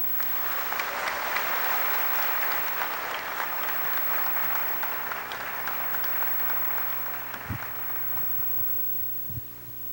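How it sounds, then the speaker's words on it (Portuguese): Sustained applause from an audience at an anniversary ceremony, steady and dense at first, then thinning and fading, with a low mains hum running beneath it. "uma salva de palmas"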